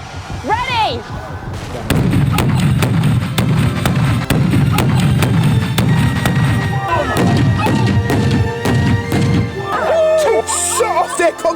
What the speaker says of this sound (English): The loudest bangs we've ever heard.